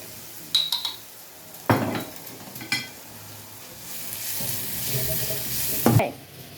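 Fennel and mustard seeds sizzle in a hot pan while a utensil scrapes and clinks against the metal in a few sharp strokes, and the hiss swells steadily toward the end, with no talk over it.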